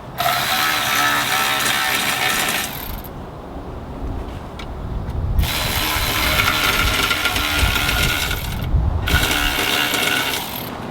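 A socket wrench clicks and skips while tightening a hose reel fitting in a garage, giving long bursts of dense ratcheting separated by brief pauses.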